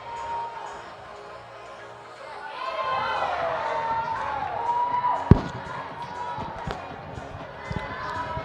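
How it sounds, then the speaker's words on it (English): Spectators at a men's bouldering national championship qualifier break into rising cheers and whoops as a climber sticks a dyno move, the crowd swelling in the middle over a bright whistle-like tone, with sharp thuds and claps punctuating the end. "some cheering for Miles Walker as he stuck kind of the dyno move"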